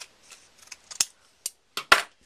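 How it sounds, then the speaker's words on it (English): Scissors snip through paper cardstock for a holiday tree card, producing a series of sharp, close, crisp clicks at an uneven rhythm, the last few louder and more forceful, with quiet gaps between cuts. "I'm actually just gonna cut it with my scissors"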